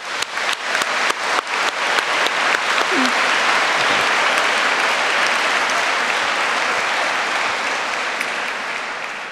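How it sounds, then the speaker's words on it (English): A university graduation audience bursts into loud, sustained applause after a few scattered first claps, the clapping dense and steady before slowly easing off. "Let us give a round of applause for their fantastic contributions."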